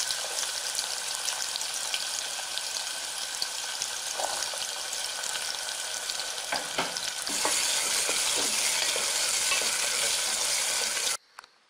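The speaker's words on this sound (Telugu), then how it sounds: "దీనిలో జీలకర్ర వేసి వేయించుదాం." Cumin seeds fry in hot oil for mutton drumsticks, making a dense, steady close sizzle with light crackles and a few stirring scrapes that grows louder midway before cutting off abruptly.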